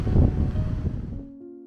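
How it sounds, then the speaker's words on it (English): Strong wind buffets an outdoor microphone with low, broadband rumble and gusting roar for over a second, then drops away, leaving a faint steady tone underneath. "It's super windy."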